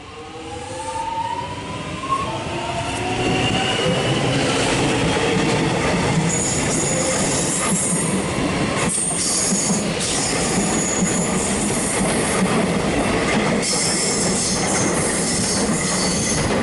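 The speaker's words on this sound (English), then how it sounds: "Now we've got this train departing." A train rumbles away from Laburnum station in Melbourne, growing louder and steadier, with wheels squealing and metallic clatter over the tracks.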